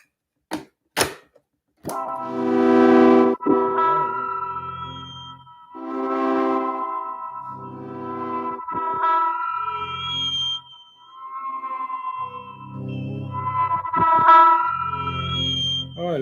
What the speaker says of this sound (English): So let's hear how it sounds if we play it backwards.